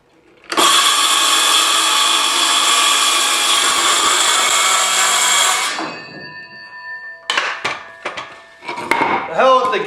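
A power saw cuts through plywood for a truck camper floor, a loud, sustained whine lasting several seconds before spinning down, followed by clattering handling noises.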